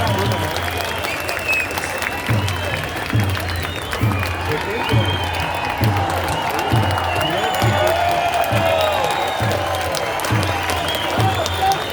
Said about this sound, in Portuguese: Uma salva de palmas para o senador Magno Malta.